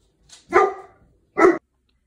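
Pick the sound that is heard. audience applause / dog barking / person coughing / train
dog barking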